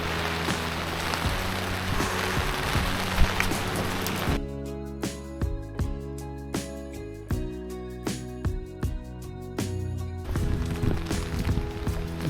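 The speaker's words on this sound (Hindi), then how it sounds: "यहाँ पे हो रही है बारिश" Rain falling steadily during a Triund trek in the hills, a continuous close patter with scattered louder drips and taps, with a stretch of sharper rhythmic knocks in the middle; no one speaks.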